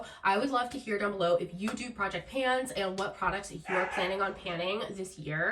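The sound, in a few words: dogs barking and fighting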